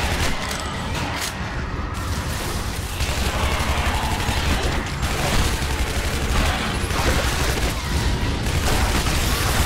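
Dense explosions and rapid gunfire from the video game Shadow Warrior, a continuous loud barrage of blasts and shots with little pause throughout.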